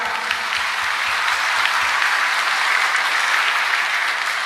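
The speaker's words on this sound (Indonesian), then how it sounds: "Tepuk tangan." A live audience at an Indonesian public talk breaks into steady, dense applause, many hands clapping together in an even roar that holds at a constant level from start to finish.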